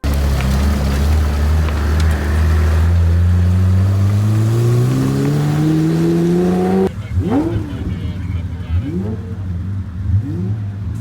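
Pagani Zonda 760 supercar with a single exhaust pipe, engine note climbing steadily as it accelerates, then shifting into a rougher, lower rumble with wind noise; loud and close throughout.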